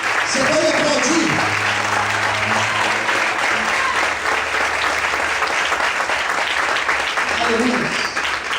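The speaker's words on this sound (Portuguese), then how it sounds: "Você pode aplaudir." Church congregation applauding at a night worship service, a loud, steady wash of clapping that runs the whole time, with a voice and sustained music-like tones underneath at the start and again near the end.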